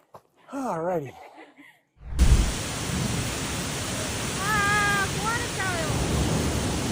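Heavy rain pours steadily in a flood-hit area of Japan, a loud continuous downpour with low rumbling that could be thunder, starting abruptly after a moment of other sound, with faint voices in the background.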